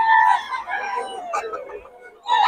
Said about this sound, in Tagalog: ganda mga manok ng Boss Tony